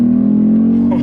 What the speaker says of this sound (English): All right, here's one more acceleration test on semi-dry pavement.